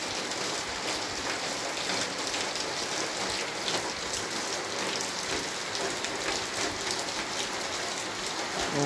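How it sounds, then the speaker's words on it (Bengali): Heavy rain pours down steadily at a forest resort in the Dooars, a dense, continuous hiss of drops hitting surfaces all around, with no voices and no break in the downpour. "বেশ বৃষ্টি নেমে গেছে, এখানে বৃষ্টির একটা আলাদা শব্দ আছে, খুব ভালো লাগছে বৃষ্টিটা।"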